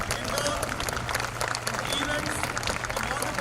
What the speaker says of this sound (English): extend a huge round of applause for everyone involved in events